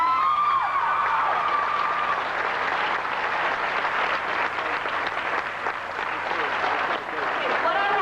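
A crowd at the Monkees' 1989 Hollywood Walk of Fame star ceremony applauds continuously, a dense wash of clapping. Voices mix in throughout.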